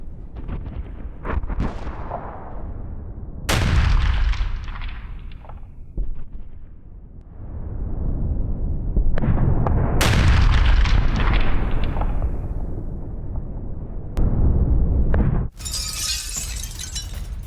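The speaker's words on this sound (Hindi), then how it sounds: "बारूदी प्रहार में रूसी सेना के टैंक तबाह कर दिए गए हैं।" Heavy explosions and artillery-like blasts in a strike on Russian tanks in Zaporizhzhia, a series of loud booming impacts with shattering crackle and long rumbling decays, separated by brief lulls.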